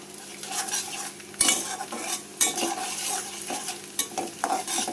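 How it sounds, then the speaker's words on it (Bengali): Garlic and green chilies fry in a pan for a Bengali loitta dried-fish curry, with a soft sizzle under repeated stirring scrapes and clinks of a utensil against the pan. "কাঁচামরিচ, রসুনটা এখন ভাইজা নিচ্ছি আমি।"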